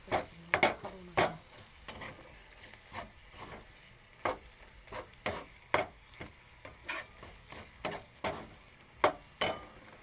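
A spoon stirs a spiced eggplant mixture in a pan, giving irregular scraping and knocking strokes over a faint sizzle, close up with no speech.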